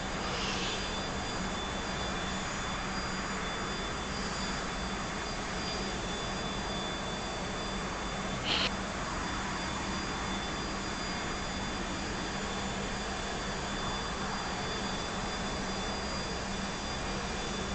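A T-45 jet engine in the DCS flight simulator game drones steadily and loudly throughout, a constant broadband roar with a faint tonal whine and one brief click midway.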